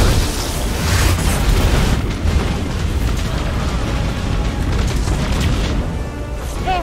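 Missile strikes in Destiny 2 set off a dense, continuous barrage of heavy booming explosions, loud and close, rumbling without pause amid chaotic battle noise.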